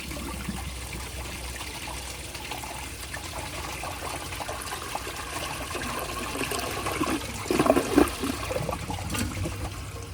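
A 1979 Crane Radcliffe toilet flushing, with a steady rush and trickle of water filling the bowl that swells into a louder gurgle near the end, heard close without talk.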